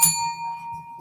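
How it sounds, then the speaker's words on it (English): A single bell struck once, its clear ringing tone sharp at the start and decaying over about a second, close and fairly loud. "Let's ring the bell for that."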